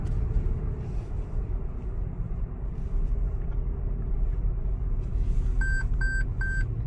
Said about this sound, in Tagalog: Beep, beep, beep. That means hindi ako nag-blinker.